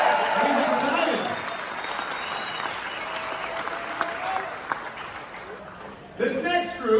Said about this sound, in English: let's give that man a huge round of applause